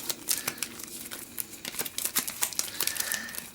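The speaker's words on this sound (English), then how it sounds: "I'm going to shuffle these" Character cards for the Dice Conquest board game are shuffled by hand close by, a quick run of crisp, uneven clicks and flicks with no talking.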